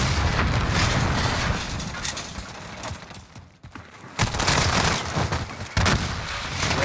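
Gunfire in an esports shooter video game during a playoff match, dense rapid volleys with loud booms, a short lull midway, then heavy bursts again.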